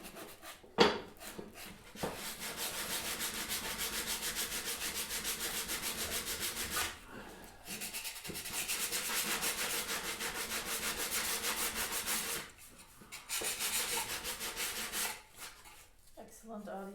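A tool scrapes the wooden handle of a backsaw during reshaping, giving long, steady rasping strokes close up with short pauses between them and a sharp knock near the start.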